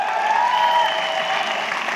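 A crowd at a direct selling business seminar in India claps steadily and evenly for a couple of seconds, a dense wash of hands with no talking over it.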